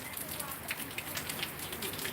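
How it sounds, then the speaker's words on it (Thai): Morning rain falls at the end of the rainy season. The patter is soft and distant, a faint continuous hiss broken by scattered light drops. "ฝนตกแต่เช้าครับ"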